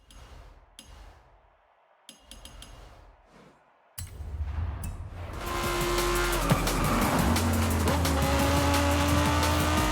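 Ferrari F430 driven in Forza Horizon 5, quiet clicks at first, then the engine roars up and holds a loud, steady high-revving drone with tire noise, close and sustained.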